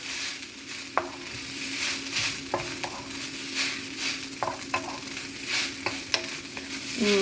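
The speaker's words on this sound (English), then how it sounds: "I'm going to give that a stir." Shrimp stir-fry noodles with dark soy sauce are stirred in a hot pan, a steady sizzle punctuated by sharp clinks and scrapes of the utensil against the pan.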